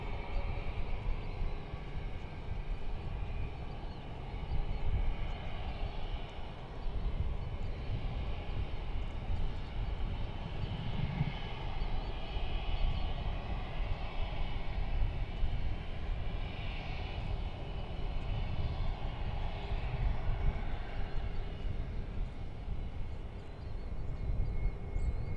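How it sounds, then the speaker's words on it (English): A passenger jet at DFW Airport takes off from runway 18 left, a continuous, fairly distant engine roar and rumble that holds steady throughout with slight swells, heard alone. "We're coming up for takeoff here on 18 left momentarily"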